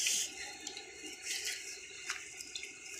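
Water running from a tap into a vessel in hot summer sun, a steady close splashing rush with brief bright spurts, continuous and alone without voices.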